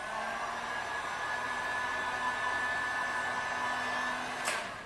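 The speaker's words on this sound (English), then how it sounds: "I just have a cheap Mastercraft Canadian Tire heat gun" A cheap Mastercraft heat gun from Canadian Tire blows at full blast on its highest of three heat settings beside a 2017 Ford Mustang, a steady, close airy roar with a faint hum, ending with a brief click.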